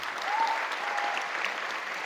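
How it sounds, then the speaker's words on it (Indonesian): Audience at a boarding school motivational event clapping together, a brief steady burst of applause heard from some distance with no clear talk. "Tepuk tangan untuk kita semua hari ini"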